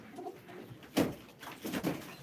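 Pigeons coo in a few soft, low rolling calls at a live pigeon auction, with faint background noise between the calls.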